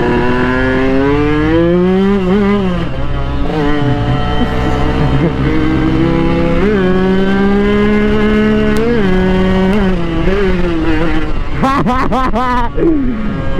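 Motorcycle engine revving while riding on an open road, loud rising and falling engine tones with repeated throttle blips, a voice talking over it at times.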